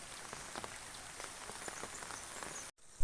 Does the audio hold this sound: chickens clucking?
no